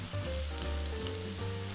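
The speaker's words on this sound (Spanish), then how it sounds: "Ya tenemos la cebolla frita, vamos a poner los hongos" Mushrooms added to fried onion sizzle and crackle steadily in a hot pan, a close, continuous frying hiss with a low hum beneath.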